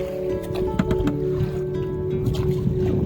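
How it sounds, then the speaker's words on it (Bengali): Water splashes and gurgles against a small hand-rowed boat on a river, with a steady low hum underneath and faint intermittent knocks. "এই হাতে টানা নৌকা করে গ্রামের সকল মানুষ পারাপার করে"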